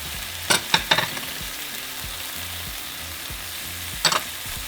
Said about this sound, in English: now we're going to cook our onion and minced garlic